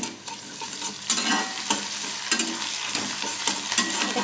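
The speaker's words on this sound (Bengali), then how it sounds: "আমি এতে অল্প আদা রসুন বাটা দিচ্ছি।" Onions frying with ginger-garlic paste in a pan give a steady close sizzle, with rhythmic scraping of a spatula stirring throughout and no talk.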